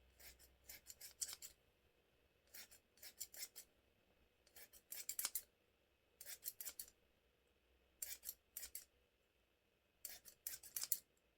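Scissors snip through layers of synthetic blonde wig hair in quick bursts of three to five crisp cuts, with short pauses between groups, close and fairly quiet with no talking.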